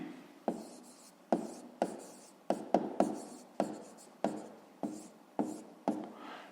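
A pen writing a fifth-grade maths answer by hand on paper, with a steady series of short, close scratching strokes, each starting sharply and fading, and no speech.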